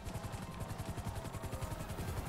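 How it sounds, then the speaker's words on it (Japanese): A police helicopter in a GTA game moving toward a crime scene, its rotor pulsing in a fast steady beat at moderate distance, with no voices over it. "ヘリがサーマルの現場にそそくそと向かってきましたと。"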